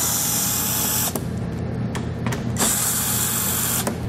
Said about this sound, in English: And I'll take those out using a 7/32 socket.